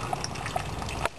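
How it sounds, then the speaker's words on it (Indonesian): Water runs from a second tap onto a homemade filter of palm fibre and coconut shell charcoal, a faint short trickle with small gurgling drips. "kita buka keran kedua."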